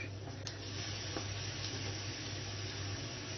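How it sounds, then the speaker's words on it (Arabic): Minced meat for lasagna sautéing in a pan, giving a steady low hiss of frying that runs evenly throughout, close but fairly quiet, with no talking. "حطيت عليها اللحمه المفرومه. بحب اديها تشويحه كده، بتدي ريحه جميله جدا"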